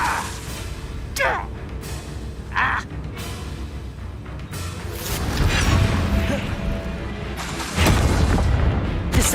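A heavy slamming impact from the Descendo spell striking an enemy in Hogwarts Legacy, a deep boom among other spell whooshes and combat noise, with brief voice sounds earlier.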